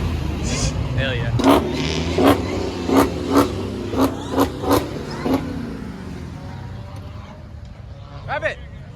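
At a cars and coffee meet, a car engine revs in a quick series of about eight sharp blips at close range, with people talking over a crowd murmur before and after.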